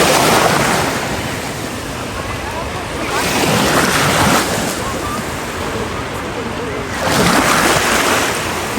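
Sea waves wash onto an Italian beach with boats out on the water, the surf swelling and receding in slow surges, with steady wind rumble across the microphone.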